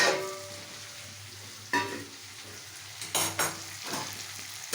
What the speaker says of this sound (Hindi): तो ये देखिए दोस्तों, ये फाइनली अच्छी तरह से भून चुकी है।